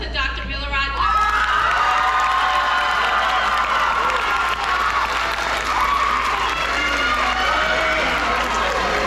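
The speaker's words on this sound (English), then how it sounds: "Please give a round of applause to Dr. Milorad Glazik." A graduation crowd at Bard College breaks into loud applause with cheers and whoops. It swells after a brief opening and stays dense and sustained, with some voices shouting over the clapping.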